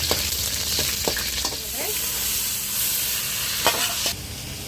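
Garlic, green and dried red chillies and cowpea snack crackle in hot oil, with a steady broad sizzle and a few sharp scraping strokes of a spoon stirring the pan.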